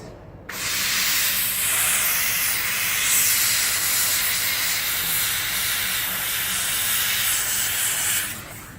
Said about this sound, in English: I'm also using the steam to go along the seams